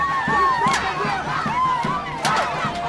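A large crowd gives a homecoming welcome to Paul-Henri Kinge in his native Mungo, littoral region of Cameroon: loud, continuous shouting and whistling voices mixed with rhythmic thumping beats, close and energetic.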